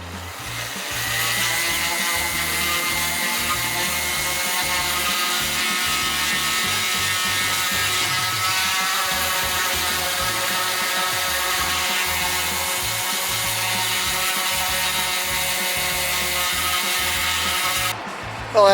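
An electric sander grinds down Bondo body filler on a damaged RV, running on a portable power station: a continuous close buzzing whine with steady harmonic hum for nearly the whole stretch, then cutting off at the end.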